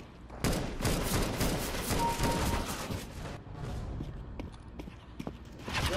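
Rapid bursts of Counter-Strike (CS:GO) gunfire crackle over a busy, noisy mix, with some shots layered close together and a brief lull partway through.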